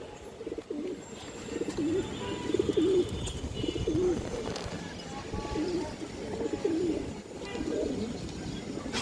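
Ring-eyed pigeons in a loft coo repeatedly in soft, rhythmic bursts against a busy background of other birds and faint chatter.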